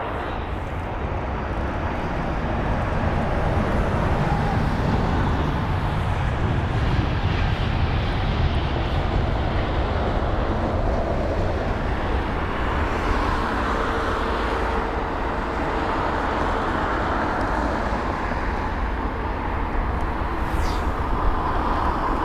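A Swiss Airbus A220-300 departing London Heathrow for Geneva produces a loud, steady jet roar that holds for over twenty seconds, broadband and heavy, with faint distant traffic noise underneath and no talking.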